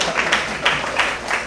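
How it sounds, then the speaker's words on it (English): A small lecture-hall audience of university students gives a short round of clapping, a brief patter of hands close by and moderately loud. "Give her a clap"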